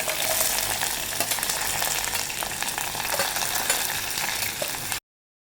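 Dried chilies, ginger and garlic fry in hot oil for a moru curry, a loud, dense, steady sizzle with stirring scrapes, cutting off abruptly near the end.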